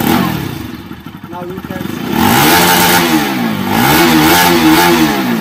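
A Bajaj Pulsar NS200 BS4 motorcycle engine, after 10,000 km of riding, idles with a clattering beat and then revs up and down in repeated swells, loud and close, while someone talks over it.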